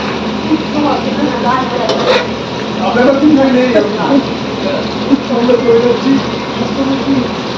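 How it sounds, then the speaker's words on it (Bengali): Diced potatoes fry with salt in a pan, giving a dense, loud sizzle and crackle throughout while someone talks over it. "আলু ভাজা হয়ে গেছে, লাল লাল করে আলু ভেজে নিয়েছি।"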